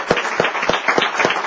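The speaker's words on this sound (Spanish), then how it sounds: "Un aplauso para nuestro capitán." A church congregation claps for their captain in a steady rhythmic beat, about five sharp unison claps per second-and-a-half, loud and close with a faint crowd murmur beneath.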